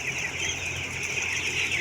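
Broiler chickens crowd a poultry house during feeding, a dense continuous chorus of chirping and clucking with rustling wings, steady and fairly near, no talk.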